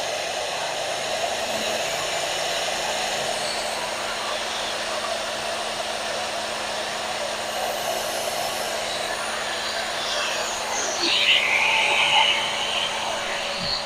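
An electric grinding machine powered by a generator runs with a steady, unbroken motor whine and hum, loud and even throughout, swelling slightly for a moment near the end.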